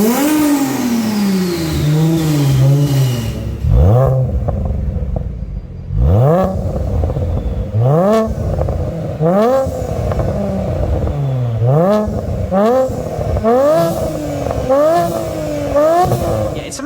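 BMW N54 engine on a single turbo setup with an equal-length twin-scroll manifold, revving hard in a series of sharp, rising blips after an initial sustained pull, loud and close with no talk over it.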